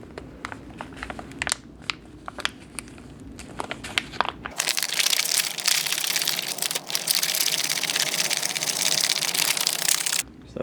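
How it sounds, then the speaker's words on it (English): A sealed pouch of drink mix from a Canadian military ration rustles and crinkles as it is handled, then is shaken in a steady, loud burst lasting several seconds. "So we'll seal it up and give it a shake."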